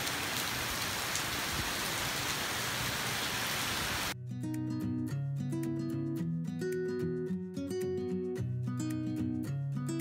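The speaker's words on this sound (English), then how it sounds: "It is raining hard." Heavy tropical rain pours down in Florida, a loud steady roar of drops on surfaces that runs alone for several seconds before music takes over.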